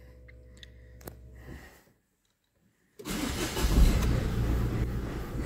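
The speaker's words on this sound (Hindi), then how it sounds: "तो दूसरी सेल पर गाड़ी स्टार्ट हुई है दोस्तों, ठंड बहुत है।" A car engine cranks and fires up on a very cold morning, with a clicking first attempt, a short silence, then a loud close start that settles into a steady rough idle.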